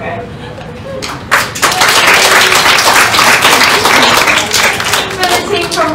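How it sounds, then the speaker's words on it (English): An audience at a university project competition applauds a high school team from Taiwan; after a quieter start with talk, loud, dense clapping bursts in and continues strongly to the end. "please give them applause again"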